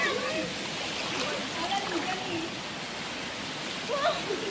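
A Batis stream on a nature trip flows with a steady, broadband wash of running water. Voices talk faintly beneath it throughout.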